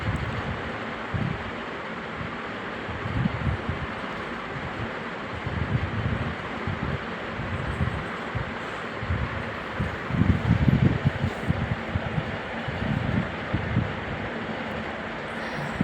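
Steady wind blows through a forest clearing beside a rural temple, a continuous broadband rush with gusty low rumbles swelling now and then, close to the microphone and without any talk.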